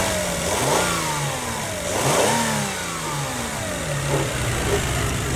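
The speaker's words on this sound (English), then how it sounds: "Listen to this engine." A 1998 Lexus ES300 engine revs up and settles back down several times, its pitch rising and falling in repeated surges with a steady idle between.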